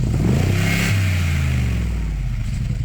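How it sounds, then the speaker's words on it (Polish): A Mercedes G63 AMG V8 engine in its sportier sound mode revs up sharply, its deep, throaty tone rising and then settling back into a rumbling, slightly falling note, close and loud with no talk. "w momencie kiedy nacisniemy, naciśniemy ten przycisk, nasz silnik będzie wydawał bardziej rasowe dźwięki"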